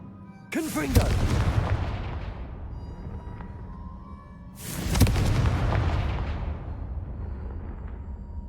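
Two heavy explosive blasts of the Confringo spell in Hogwarts Legacy, each a sudden loud boom with a long rumbling tail fading over a few seconds, spaced about four seconds apart.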